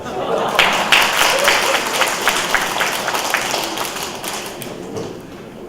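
A roomful of people claps in a brisk, continuous round of applause at an indoor gathering where rice cakes are being handed out, with voices murmuring and talking through it before it tapers off.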